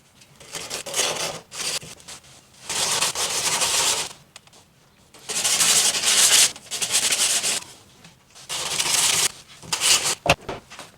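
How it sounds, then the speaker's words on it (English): Filler on the door of a Lexus LS400 is hand-sanded in several rhythmic bursts of scratchy rubbing, separated by short pauses, close and moderately loud. "Sanding."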